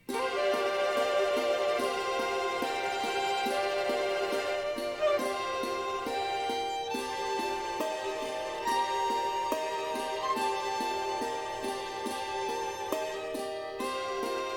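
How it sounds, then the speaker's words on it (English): Orchestral strings sustaining rapid tremolos in major seconds, a dense shimmering texture of layered bright tones that holds steadily throughout at a moderate level, with no voices. "So here's what it sounds like with tremolos"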